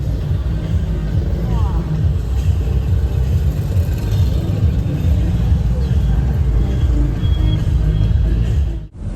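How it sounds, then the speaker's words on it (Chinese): A shuttle bus carries passengers through Ho Chi Minh City at night, its engine giving a continuous loud low rumble with steady road noise from start to finish that cuts off abruptly near the end. "我们现在坐摆渡车去汽车站"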